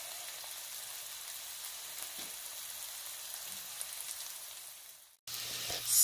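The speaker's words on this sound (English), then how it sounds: "Sizzle, sizzle." Steady frying sizzle of onions in a pan for a chicken stir fry, a close crackling hiss with faint pops, briefly cut off near the end before resuming.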